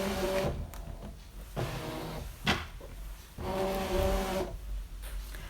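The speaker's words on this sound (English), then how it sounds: "I'm just going to load this into the machine and recut all the tags." A Brother ScanNCut machine cuts stamped paper tags, its motor whirring and buzzing in several close, steady passes separated by short pauses and clicks, with no talking.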